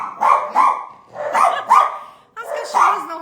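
Female dogs barking indoors at home, a close, loud series of about six sharp barks in uneven bursts with short pauses between them.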